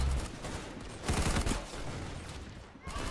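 Gunfire in the Roblox game Arsenal, dense rapid automatic shooting filling the whole moment, loud and close, with a heavier burst in the middle and no talking.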